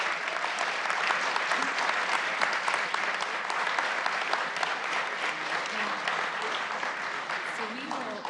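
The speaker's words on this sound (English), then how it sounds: "Let's give this panel one more round of applause." Sustained applause from an audience at a city council committee meeting, thanking a panel; dense, steady clapping fills the whole stretch at even loudness with no pauses.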